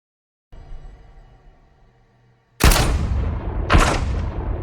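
Gunshots in a film scene in which a buyer and his men are shot: a quiet low hum gives way to two sharp, loud reports about a second apart, each followed by a long, heavy, ringing decay.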